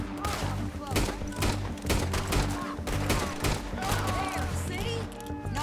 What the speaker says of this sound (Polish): Lubię te strzały takie szybkie.